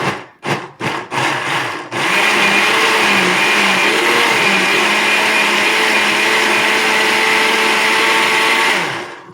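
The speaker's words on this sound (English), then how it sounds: "I'm just gonna keep blending this because it's kind of loud" A loud blender purees roasted bell peppers, running steadily after a few short stop-start pulses, its motor whirring with a churning, grinding texture.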